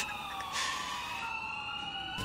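Wailing ambulance siren in the LCPD:FR police game, a rising and falling electronic tone that holds steady and sweeps upward at the end, fairly faint with a brief burst of noise partway through.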